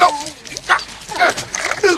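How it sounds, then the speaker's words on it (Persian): A dog in a film yips and whimpers in short excited bursts amid dubbed voices and other soundtrack sounds. "یه سگ از راه میرسه و به گنگستر ابراز علاقه"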